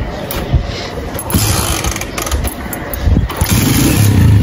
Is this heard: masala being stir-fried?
no